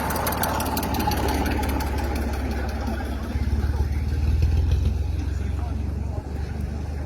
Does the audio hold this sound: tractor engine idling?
yes